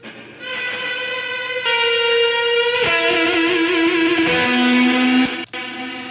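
Sustained distorted electric guitar solo with long held, bending notes and a wide echoing reverb tail, loud and with no voices.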